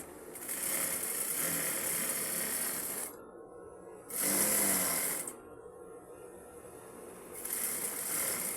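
Overlock sewing machine stitching fabric in three close, buzzing runs of fast needle hum with brief quieter gaps, the first run the longest and the middle one the loudest.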